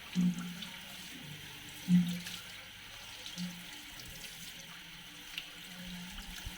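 Tap water runs steadily into a sink while bitter gourd is washed for a mung bean dish, a soft continuous splash with a few louder gurgles and knocks as the vegetable is handled.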